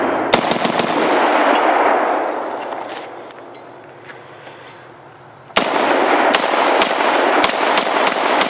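An AR-15 rifle fires rapid strings of loud, sharp gunshots outdoors, with a fast burst, a brief lull where echoes fade, then another quick volley of cracks.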